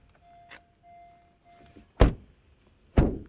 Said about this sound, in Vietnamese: bây giờ thì chúng tôi sẽ mở cái cửa này xem cái độ ra vào của nó như nào